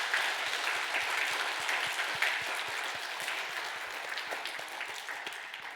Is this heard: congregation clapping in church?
yes